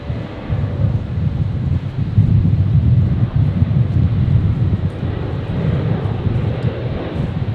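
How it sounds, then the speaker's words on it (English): Alliance Fokker 100 jet landing on runway 19 right at Brisbane airport, a loud, steady low roar of engine and rushing air that swells around the second mark and holds to the end, no voices. "The Alliance Fokker 100 just about to touch down here on 19 rights, operating Virgin 372 from Townsville."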